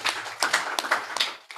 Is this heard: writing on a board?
no